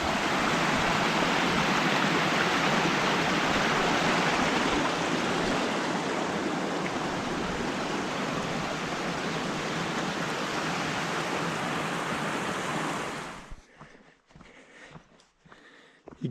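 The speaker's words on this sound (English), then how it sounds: "Coming up to another water crossing." Stream water rushes loudly and steadily at a trail water crossing on Mt. Hood's Timberline Trail, a dense close hiss and gurgle that cuts off abruptly near the end, leaving faint footsteps.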